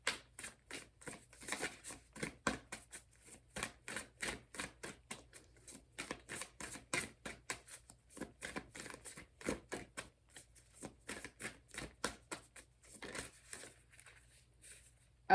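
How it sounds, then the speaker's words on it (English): An oracle card deck is shuffled by hand, a long run of quick riffling bursts and soft slaps in an uneven rhythm, close and fairly quiet, with no talking. "I just did all that shuffling and here it is."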